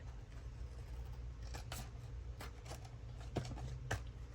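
Scissors cut a journal page over a garbage can, giving a handful of crisp, close snips spaced unevenly over a soft rustling background.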